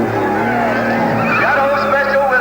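A 1950s race car, the Shadow Special, roars past on a road-racing circuit, its engine note loud and close and sweeping in pitch as it goes by, with tire squeal and a commentator talking over it.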